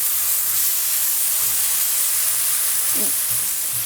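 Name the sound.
sautéing rice and peas in a pan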